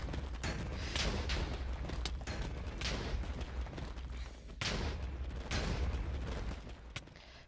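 End crystals blow up in Minecraft during obsidian-placing combat practice, a run of repeated booming blasts in quick bursts, each followed by a rumbling, crackling tail.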